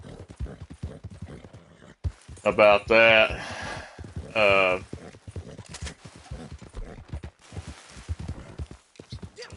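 Horse hoofbeats in Red Dead Redemption 2 Online, a steady clip-clop of a ridden horse at an even gait with a couple of loud whinnies in the middle, someone talking over it at times.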